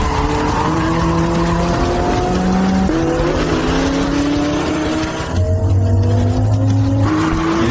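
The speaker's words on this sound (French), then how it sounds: "Il est taré, il fait du drift sur la glace, ça ne fait qu'accélérer et perdre le contrôle." A car drifting sideways on ice, its engine revving hard in rising and falling sweeps with continuous tire skid noise, loud and close throughout with no pauses.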